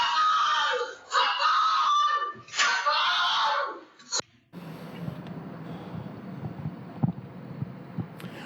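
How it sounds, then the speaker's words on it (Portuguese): A shopkeeper screams in despair and calls for help during an armed robbery at her store, loud anguished shrieks in bursts over the first four seconds, then cutting to muffled room noise with faint knocks. "Aí o grito de desespero"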